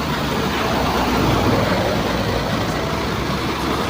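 A truck hauling milk across Europe rolls along with a loud, continuous engine and road rumble close by, steady with a slight swell in the middle and no talking.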